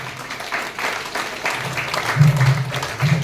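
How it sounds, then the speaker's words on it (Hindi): Audience applause for Lalit Arora at a network marketing motivational event, a steady wash of clapping throughout with a low hum underneath, swelling slightly toward the end. "मैं एक बार जोरदार तालियां चाहता हूं ललित अरोड़ा सर के लिए।"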